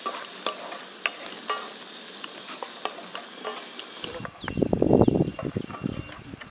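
Onions sautéing in oil toward golden brown for Hyderabadi chicken give a steady sizzle and crackle, then a spoon stirs and scrapes the pan in close, louder rhythmic strokes near the end, with no talk.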